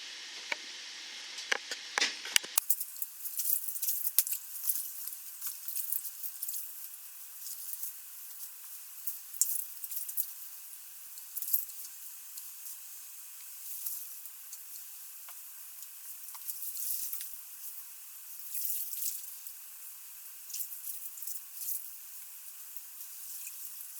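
Deer hide tanning formula being stirred into several gallons of water, giving a steady close-up swishing and sloshing with small splashy ticks, after a louder burst of splashing at the start; no talking.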